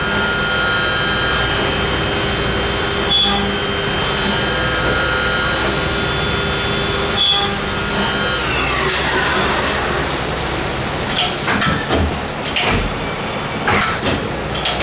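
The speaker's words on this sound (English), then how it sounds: "we just use an end mill because we're at an angle here on the face we've just cut" A loud, continuous machine whine with steady tonal hum, shifting partway through into harsher grinding bursts as an end mill cuts an angled face on a Rover V8 cylinder head.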